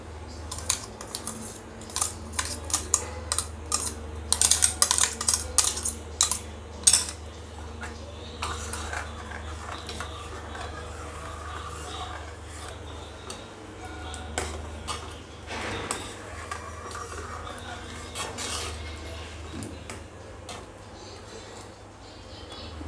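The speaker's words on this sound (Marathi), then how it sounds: "आता यात आपण हे तांदळाचं जे केलेलं आहे क्रश आहे तो टाकून देऊ पूर्ण" Crushed rice is tipped into a pan of boiled milk for kheer, with sharp metallic clinks and scrapes of utensils clustered in the first seven seconds, followed by quieter, sparse handling noises.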